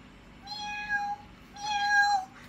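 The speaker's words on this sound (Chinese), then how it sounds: "猫呀，这个是猫。" A cat gives two clear, close meows in a row, each a drawn-out, rising-and-falling cry with a short pause between them, in an otherwise quiet room.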